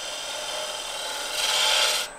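A fluteless woodturning gouge makes a pull cut on spinning wood, a steady raspy scraping hiss that swells louder toward the end before stopping abruptly, close and continuous with no voices.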